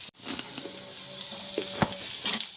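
Onions browning in oil in a pan, a soft, steady sizzle with faint stirring scrapes and occasional light clinks of a utensil, heard close but quietly.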